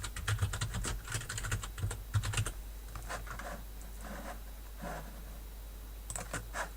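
A computer keyboard clicks in quick, close bursts as text is typed into Photoshop, then slows to scattered single keystrokes over a low steady hum.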